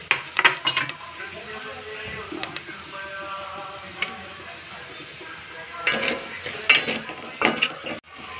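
A ground paste of onion, coconut and garlic is stirred and fried in oil in a pan. A metal spoon clinks and scrapes against the pan in irregular bursts over a faint sizzle, with no voices.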